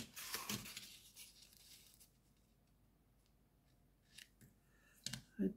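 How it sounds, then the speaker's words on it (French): Scissors snip through a card in a quick burst of crisp cuts at the start, then quiet, with a few more short cuts near the end. "Et je vais couper."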